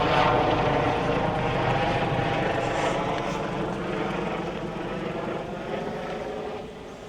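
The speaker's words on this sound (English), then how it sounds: "while a helicopter flies overhead" A helicopter drones steadily overhead in London, its rotor and engine rumble loud and continuous, slowly fading a little as it passes.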